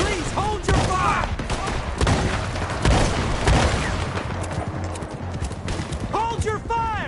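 A gunfight rages in the Red Dead video game, with repeated loud gunshots cracking close and far through a busy, noisy mix while voices shout over the fire.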